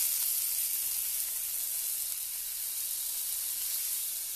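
Filet mignon sizzling steadily in a frying pan right after being flipped, a close, continuous bright crackle and hiss with no talk over it.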